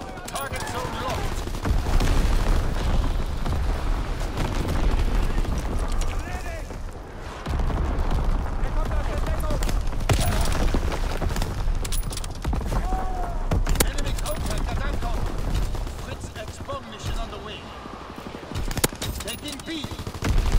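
An artillery barrage pounds away in Call of Duty: WWII, with loud, dense explosions and rattling gunfire rolling on almost without pause, and voices shouting underneath.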